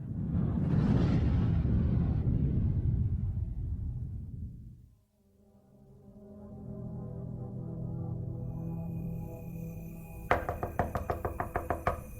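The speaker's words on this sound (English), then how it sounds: "the killer knocked on Karen's front door." A dramatized front door knocking effect comes in near the end as a quick burst of about eight sharp knocks, after a low rumbling swell and a sustained tonal drone.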